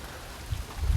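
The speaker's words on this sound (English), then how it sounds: "raining pretty good again" Rain falls outdoors at an off-grid cabin on a cold, windy day, a steady soft hiss of drops with a few heavier low thuds toward the end.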